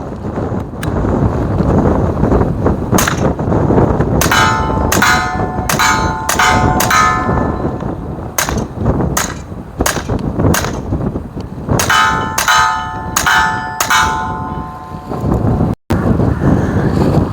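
Sig P322 pistol firing Thunderbolt rounds outdoors, a rapid string of sharp, loud shots in clustered bursts with pauses between, over constant heavy wind rumble on the microphone.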